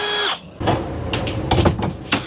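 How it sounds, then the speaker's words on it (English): A power drill with an ultra short bit, about 3/4 inch, bores up into wood during a motorhome kitchen counter install. A brief high whine comes first, followed by close, rough grinding bursts with sharp knocks toward the end. "So now I'm drilling up through these two holes into the wood."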